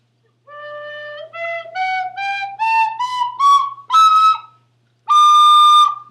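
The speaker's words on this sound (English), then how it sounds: "So go ahead and play your penny whistle for a minute" A penny whistle played alone, climbing through a rising run of clear, bright separate notes with short gaps between them, then holding one final long note after a brief pause.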